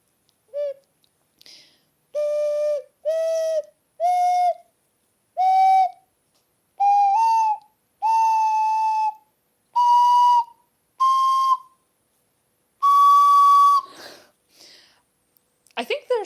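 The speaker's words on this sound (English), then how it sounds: "there's something weird about the ocarina right now because it doesn't have like a thick sound" An ocarina plays a rising scale of pure, breathy whistle-like notes, each held briefly with short gaps, ending on a longer high note.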